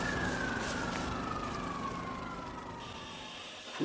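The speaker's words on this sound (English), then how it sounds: "You can hear the sirens now." A distant siren wails with a slowly falling tone over a low rumble of traffic, fading slightly toward the end.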